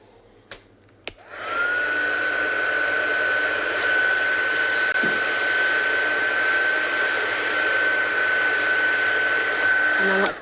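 A handheld heat dryer blows steadily over a freshly stamped card, switching on after a couple of faint clicks and holding a constant close whirring hum with a high whine for the rest of the clip.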